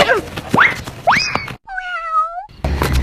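A cartoon cat meows twice in quick rising cries, then gives a longer sustained mew, loud and close, with brief thumps and other cartoon sounds around it.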